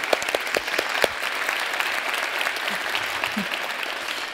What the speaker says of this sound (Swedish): Ge henne en applåd först